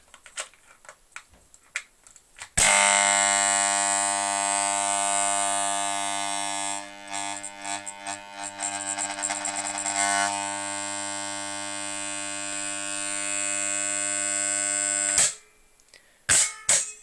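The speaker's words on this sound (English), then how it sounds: "I love that noise when it doesn't latch properly, that hum." A three-phase latching contactor switches on and drones with a loud, steady electrical hum and buzz for about twelve seconds, fluctuating slightly as it fails to latch, with clicks before and after.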